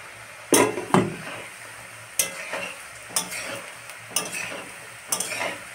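Snacks frying in oil in a wok over low gas, a steady sizzle broken by several sharp scraping strokes of a spatula turning the pieces at close range.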